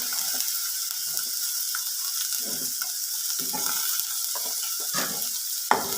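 Onion and green chilli frying in coconut oil, stirred in a pan with a constant hiss and a series of irregular scraping strokes, moderately loud and close.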